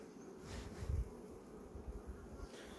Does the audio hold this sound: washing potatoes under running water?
no